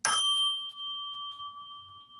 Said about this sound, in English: here I have a lovely set of chimes that were made in Australia that are called the Sonic Geometry